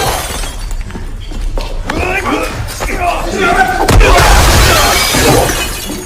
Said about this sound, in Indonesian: saat ia terlempar ke arah kaca dan terjatuh di atas pecahannya